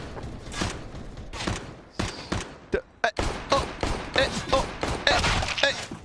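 Gunfire rings out in a professional Counter-Strike match, including long-range UMP shots: sharp, close cracks in quick bursts and clusters with short gaps, over faint background voices.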